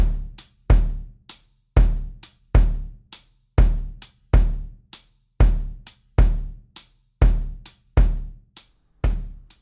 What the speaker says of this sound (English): drum track that is playing the hi-hat on 2 and 4 and the Charleston rhythm